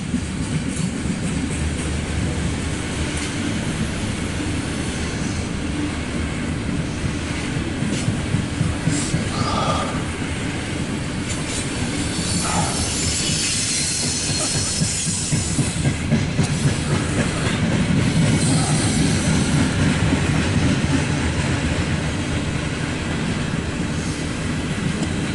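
A loaded CSX coal train rolls steadily past, a continuous rumble of wagons with faint clickety-clack over the rails and some hiss, holding loud and even for the whole stretch with no talk.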